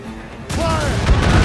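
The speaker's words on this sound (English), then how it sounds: "They're firing a volley!" A volley of gunfire bursts out suddenly and loudly, a broad crackling roar of shots fired together that then rumbles on, while a voice shouts over it.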